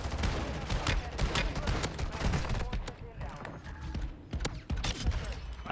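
Gunfire in a Call of Duty game, sounding as dense rapid bursts of shots that crowd together into a loud, continuous barrage, then thin out briefly before further sharp shots break through.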